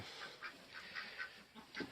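Soft, repeated quacking from Duclair ducklings, several short calls in an uneven rhythm, fairly faint against a quiet outdoor background.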